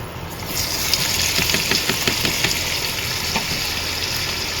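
Boiled young jackfruit dropped into hot oil in a wok, a loud sizzle with bursts of crackling and spatter that settles into a steady fry, no talking.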